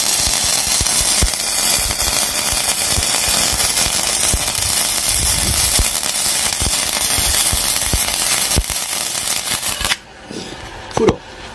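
Gasless flux-core wire MIG welding at 70 amps, a loud, continuous crackling and sputtering arc close by for about ten seconds, then it cuts off abruptly, leaving quiet with a couple of small knocks.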